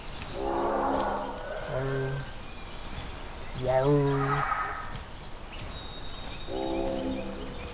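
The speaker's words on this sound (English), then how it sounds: "that's a parasaur that's making the big honks up there" Deep, drawn-out honks from a Parasaurolophus in the video game The Isle sound in several separate calls, resonant and horn-like, carrying over a steady outdoor ambience of insects.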